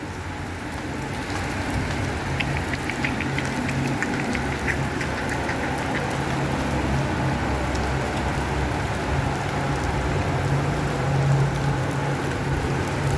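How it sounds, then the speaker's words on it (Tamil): Steady, close rain falling during an evening journey at about four o'clock, a continuous wash of drops with a faint engine hum beneath and no talking. "இப்போ நம்ம இந்த மழையில் நனைஞ்சிக்கிட்டு தான் போக போகிறோம்"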